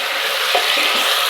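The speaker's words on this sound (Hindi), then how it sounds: "तो अभी हम फ्राई कर लेंगे" Green chili, garlic and ginger paste fries loudly in a pan for a chicken liver and gizzard curry, a dense close sizzle with a brief soft stir midway and no voices.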